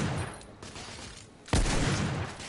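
Gunfire in The Order: 1886, a steady crackle of shots that swells into a louder, closer burst of fire near the end.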